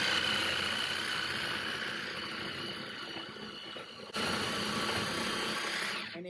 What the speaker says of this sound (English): This is actually called a sawzall. Some people call it a reciprocating saw.